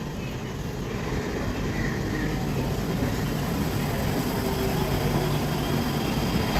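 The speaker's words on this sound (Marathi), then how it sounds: "मुंबई छत्रपति शिवाजी महाराज टर्मिनस जाने वाली ही लोकल है." A Mumbai local train bound for Chhatrapati Shivaji Maharaj Terminus runs with a steady, loud low rumble of motors and wheels that fills the whole stretch without letup.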